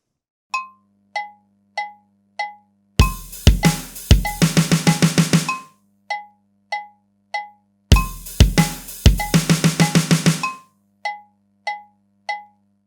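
Steady metronome clicks tick along at 97 BPM, interrupted twice by a fast flurry of snare drum strokes that build into a quick seven-stroke roll before stopping.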